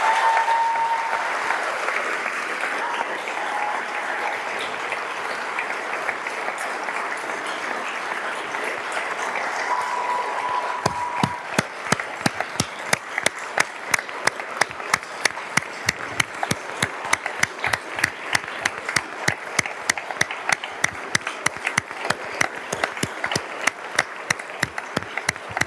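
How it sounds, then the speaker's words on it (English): Audience applause at a State of the State address, honoring a teacher named Vermont's Teacher of the Year: a broad crowd ovation that thins into sparse, rhythmic individual claps, moderately distant. "let's give her a round of applause for being named"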